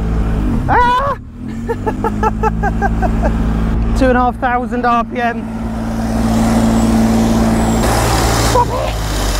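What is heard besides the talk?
1962 Jaguar engine revving at 2,500 RPM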